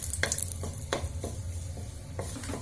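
A bay leaf sizzling in hot ghee in a pan for carrot halwa, a soft steady frying hiss with a few scraping stirs of a spoon against the pan, quiet and close.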